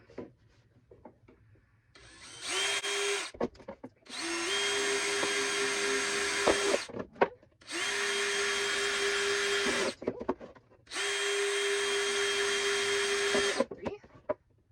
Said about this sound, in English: I'm gonna go ahead and drill in my drainage holes